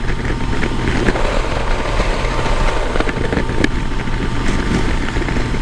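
A 2021 Kawasaki Versys 1000 SE motorcycle cruises at 61 mph in sixth gear, its steady engine drone blended with heavy wind rush, loud and unbroken throughout with no talking.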